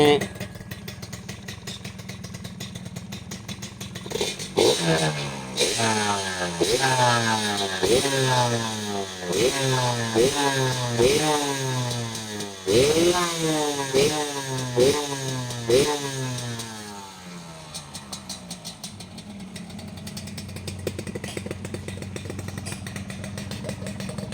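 A used motorcycle for sale, its engine running with repeated revs that rise and fall in a steady rhythm, loud and close, briefly idling before and after the revving.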